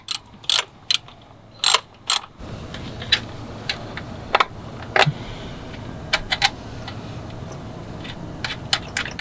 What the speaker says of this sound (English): then you tighten it with a 10mm bolt